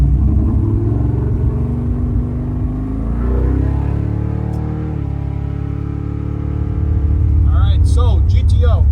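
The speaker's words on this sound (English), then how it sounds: "check out this footage of us street driving it." A 1965 Pontiac GTO on the street, its deep engine rumble loud and close throughout, easing off and swelling again as it drives, with people talking over it.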